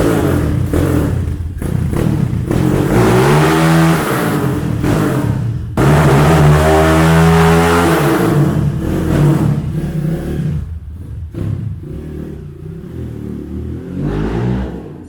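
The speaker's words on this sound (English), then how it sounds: "Oh yeah, revs a lot more now." A Rusi Diablo motorcycle engine revs hard twice, climbing and falling in pitch, then settles into a rougher, quieter idle with smaller throttle blips.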